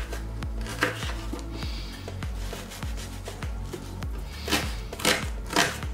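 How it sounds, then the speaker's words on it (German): Knife chopping vegetables coarsely on a board for a quick white bean stew, a steady run of sharp, fairly loud chops at a brisk, slightly uneven rhythm with no talking. "So, jetzt schneiden wir das Gemüse erstmal klein und dann wird es gegart."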